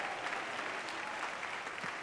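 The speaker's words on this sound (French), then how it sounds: "fort l'applaudissement pour le Seigneur" A church congregation applauds during worship, a dense, steady wash of clapping from many hands that fills the space, with no single voice standing out.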